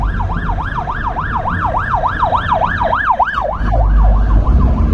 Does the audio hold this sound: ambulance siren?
yes